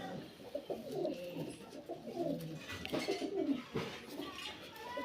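Pigeons coo steadily in a loft, several birds overlapping in soft, throaty rolling calls that carry through the whole stretch at a modest level.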